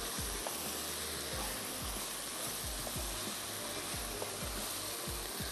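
Carrots and mixed vegetables for a chicken stir fry sizzle steadily in a hot pan, with a continuous loud frying hiss and repeated soft scraping thumps as they are stirred.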